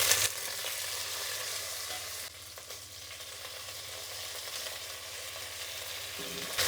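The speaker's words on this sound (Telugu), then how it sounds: "కూరగాయ ముక్కలు అనేది బాగా వేయించుకోవాలి." Chopped vegetables with mustard seeds, cumin, crushed garlic and dried red chillies fry in a pan for sambar, giving a steady close sizzle with scraping stirs, fairly quiet throughout.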